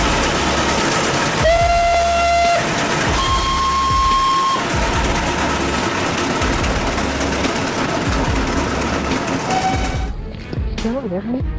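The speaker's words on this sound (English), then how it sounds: "When the whistle blows, a deep, rumbling sound vibrates the air" A train rumbles steadily past, loud and close, with long blasts of its horn sounding twice before the noise tails off.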